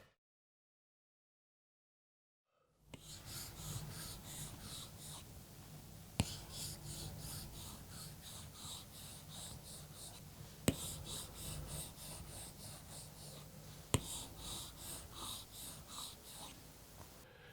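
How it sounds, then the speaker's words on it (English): An Apple Pencil dragging across a tablet screen protector, recorded close up: continuous soft scratchy strokes, rhythmic and quiet, with a few sharp taps where the tip lands, after a brief silence. "the sound of that Apple Pencil dragging across the screen"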